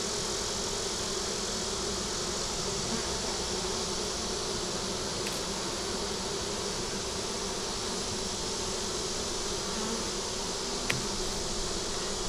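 Honeybees fill an opened hive with a steady, dense buzzing hum that stays level and continuous throughout, close and fairly loud, with no speech over it.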